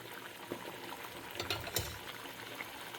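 Paneer gravy bubbling in a pan over a high flame, a soft steady simmer with a few louder bursts and faint spoon scrapes near the middle, with no voices.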